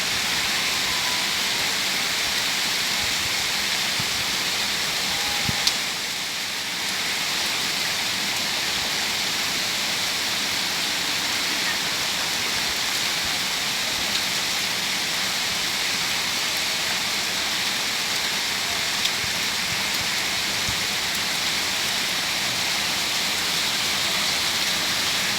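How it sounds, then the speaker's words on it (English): Heavy monsoon rain pours down steadily, a dense, loud, unbroken hiss of falling water that barely changes for the whole stretch, with no voices. "Everywhere is rain."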